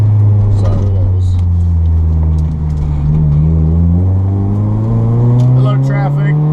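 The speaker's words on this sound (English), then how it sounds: "Hello, traffic." Cars driving past on a road, a loud, continuous engine rumble that rises and falls in pitch as vehicles go by, with no pause over several seconds.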